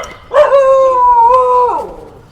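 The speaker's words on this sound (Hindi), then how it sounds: "कुत्ते अपन को भौंक रहे क्या?" A dog lets out a single sustained, wavering howl lasting over a second, loud and close, then trails off into quiet background.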